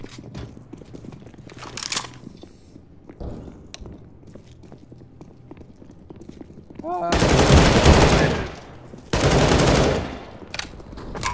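Two loud, sustained bursts of automatic gunfire in Counter-Strike on the de_Nuke map, preceded by scattered quieter shots and footsteps.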